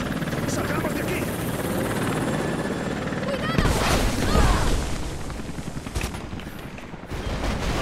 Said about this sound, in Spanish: Escapa del helicóptero.